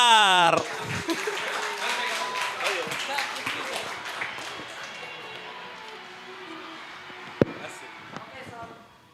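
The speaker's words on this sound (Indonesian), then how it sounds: "Oke boleh tepuk tangan buat Akbar." Applause from a live audience for a comedian at a comedy show, a dense burst of clapping at the start with a few laughs that thins and fades over several seconds, ending with a sharp knock.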